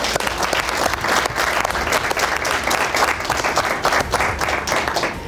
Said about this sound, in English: I think you can all give yourselves a good round of applause.